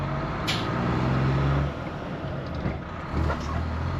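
A Cummins-powered ERF truck is driven without using the clutch, its engine a steady low rumble from inside the cab with brief shifts in pitch and load.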